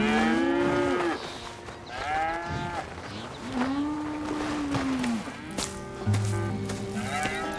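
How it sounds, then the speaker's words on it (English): Several cattle low repeatedly on a ranch in Red Dead Redemption 2, long drawn-out moos rising and falling at close range over steady farm ambience, with no talk. "Here's the cows."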